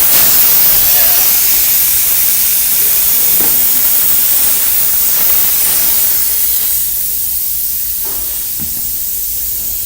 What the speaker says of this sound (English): So as the air's letting out